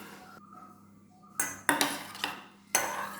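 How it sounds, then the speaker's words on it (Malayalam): Salad tossed in a bowl for a simple kids' recipe: several sharp clinks and scrapes of utensils against the dish, close and fairly loud, arriving in uneven bursts after a quieter start. "എല്ലാം കൂടെ നന്നായിട്ട് മിക്സ് ചെയ്യാം"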